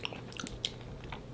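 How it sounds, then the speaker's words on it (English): Someone chewing spicy nuclear fried chicken close to the mic: a short burst of moist, crunchy bites and smacking, fairly quiet, with no talk. "While I'm chewing it"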